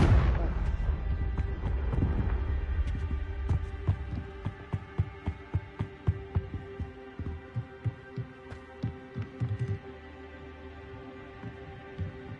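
Confringo blasting spells explode in a wizarding video game, a big blast up front followed by a rapid series of sharp booming bursts, then a steady low hum.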